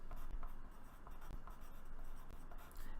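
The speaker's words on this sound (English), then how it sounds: "I'm going to write it down here." Marker or chalk writing on a board during a geometry lesson on triangles: soft, close scratchy strokes in short bursts, faint and steady, with no talking over it.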